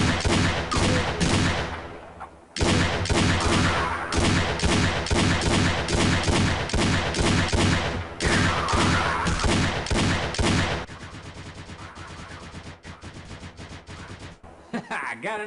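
Rapid gunfire in the Half-Life Echoes video game, with a Magnum revolver in play: a dense, loud run of shots and impacts that fills most of the span, then thins into quieter game ambience near the end.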